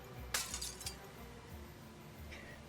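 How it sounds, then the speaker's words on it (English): A glass-shattering sound effect from the Paranormasight video game plays as a sharp, bright crash followed by scattered tinkling shards. It is quiet overall and has no talking. "I love the throw and glass shatter sound effect accompanying her saying that."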